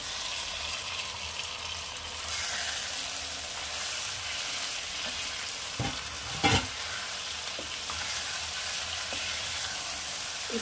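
Fried potatoes are added to a pan of cooked-down spice mix for Bengali-style shahi aloo dum, with a steady sizzle, a couple of sharp knocks from the spoon and pan, and no talking.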